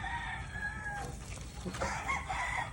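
Gamefowl chickens on a game farm crow and cluck at a moderate distance, with a drawn-out crow rising over a noisy outdoor background.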